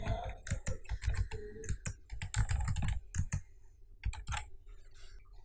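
Rapid clattering keystrokes on a computer keyboard, close and clear, arriving in uneven bursts with short pauses as words are entered into search boxes.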